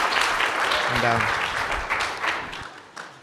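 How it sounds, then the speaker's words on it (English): Steady audience applause fills a State of the City gathering after an organ chorale performance, a dense wash of clapping that tapers off toward the end while a voice briefly speaks over it. "can we get one more round of applause?"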